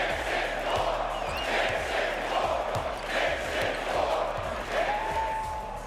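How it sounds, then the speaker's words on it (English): The Madison Square Garden crowd at a Knicks basketball game in the final seconds, a loud sustained roar of cheering with steady rhythmic thumping beneath it. "Take a listen to the MSG crowd in the final seconds."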